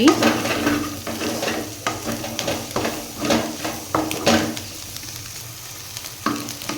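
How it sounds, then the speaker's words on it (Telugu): Brinjal and egg stir-fried in a pan on high flame sizzle steadily up close, with repeated scraping and stirring strokes throughout and no talk. "ఇక్కడ నుంచి కొంచెం హై ఫ్లేమ్లోనే పెట్టి ఫ్రై చేసుకోవాలి"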